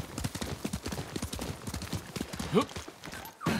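A horse gallops in the Ghost of Tsushima video game, its hooves striking in a quick, steady clip-clop rhythm, close and prominent, with a short whinny-like call near the end.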